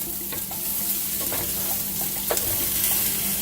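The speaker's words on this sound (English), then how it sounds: "now the rice is being coated with the oil" Rice sizzles in hot oil in a pan for chicken and seafood paella, a steady close crackle of frying with occasional stirring scrapes and no talking.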